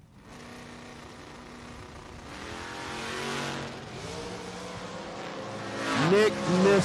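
At a bracket drag race, a Pontiac GTO idles with a rough rumble before its engine swells and revs hard, climbing to a loud launch at the end, while an announcer talks over the track noise.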